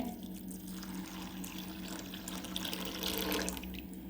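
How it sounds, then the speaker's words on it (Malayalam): Boiling water pours in a steady, rushing stream into a container of lentils, close and continuous, growing slightly louder near the end. "അതിലേക്ക് ഞാൻ തിളച്ച വെള്ളം ഒഴിച്ച് കൊടുക്കുന്നുണ്ട്"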